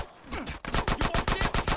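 A fast burst of automatic gunfire in Grand Theft Auto: San Andreas – The Definitive Edition, about a dozen sharp, loud, evenly spaced shots after a short lead-in, with no talk.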